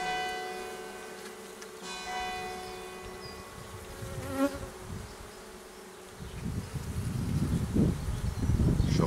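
Honeybees buzz steadily around an open beehive full of drones, a close, droning hum that swells louder near the end, with a faint ringing tone in the background.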